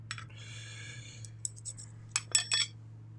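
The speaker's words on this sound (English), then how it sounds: "My spoons, my spatulas, my ladle or ladle" Metal spoons, spatulas and a ladle clink and tick together as they are handled and bundled up, with a few close, bright clatters in quick clusters over a steady low hum.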